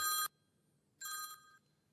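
An incoming phone call rings as two bursts of electronic telephone trill, a brief ring followed by a second longer one after a pause, clear and alone without talk.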